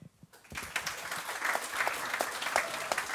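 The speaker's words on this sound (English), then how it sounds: "round of applause for Philip" After a brief quiet start, a late-night show audience breaks into steady applause for a participant, fairly faint and roomy, with a few louder individual claps standing out.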